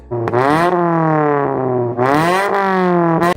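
A Honda Civic four-cylinder engine with a stock-sounding exhaust revs up and settles in smooth, steady harmonic sweeps, with a second rev near the end; loud and close, no talking.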